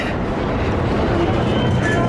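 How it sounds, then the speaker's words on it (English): New York City subway train, a loud continuous rumble and roar of wheels on rails heard from close by, with a faint voice underneath. "We're gonna go for a subway train."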